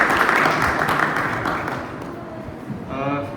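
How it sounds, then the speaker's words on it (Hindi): Audience applause at a school Hindi fortnight celebration, welcoming a teacher about to sing, a brief burst of clapping that fades as a voice begins near the end. "एक बार पाठक सर का सब जोरदार तालियों से स्वागत करें।"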